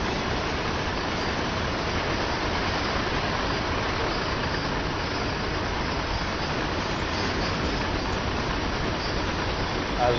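A train in Train Sim World 2 on PS5 rolls past with a steady, unbroken rumble and hiss that holds at an even loudness throughout, dense and close with no pauses.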